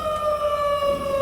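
Loud tornado warning sirens during a severe storm chase, a sustained steady wail holding one pitch with strong harmonics, filling the whole stretch without any talk.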